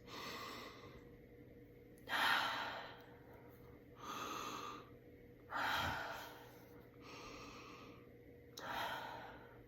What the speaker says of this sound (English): Inhale, deeply inhale through the nose and out the mouth.